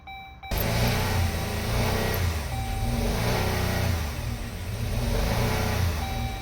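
A 2018 Dodge Journey engine catches after a brief cranking start and runs rough with a misfire, a loud close uneven idle with a lumpy, pulsing rhythm throughout.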